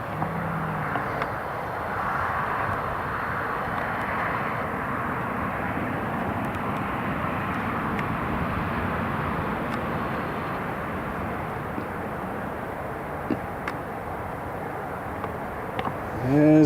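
A Lufthansa airliner on approach to Newcastle International Airport gives a steady, broad engine roar that holds at moderate level throughout, with faint wind and background noise and no voices.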